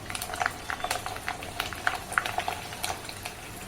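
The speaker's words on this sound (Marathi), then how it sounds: "तेल चांगलं मात्र कडकडीत गरम करून घ्यायचं आणि मग आपल्याला ह्या तळून घ्यायच्या तर तेलामध्ये टाकून" Rice kurdai frying in very hot oil, a faint, steady crackle and bubbling with frequent small pops spread evenly through the clip and no voices.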